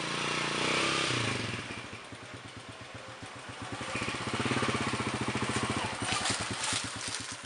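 A motorcycle engine runs with a rapid, chugging putter, rising in revs partway through, fairly close and steady.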